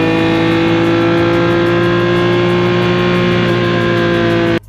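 Yamaha OX99-11 supercar, a 1991 road car powered by the Yamaha OX99 Formula One engine, giving a loud, sustained high-pitched engine howl held steady for several seconds before cutting off abruptly.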